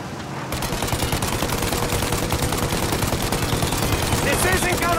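Sustained rapid gunfire aimed at a plane's engines in the Mafia video game rattles on loud and dense over a continuous engine roar.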